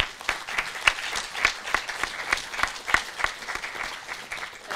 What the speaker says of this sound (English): I'd like to give all of our presenters another big round of applause